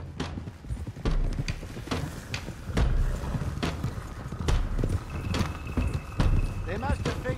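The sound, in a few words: horses riding in Red Dead Redemption 2 video game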